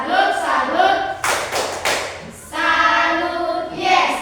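Students in a classroom do a clapping chant: a sharp cluster of unison hand claps sits between stretches of group chanting, loud and close.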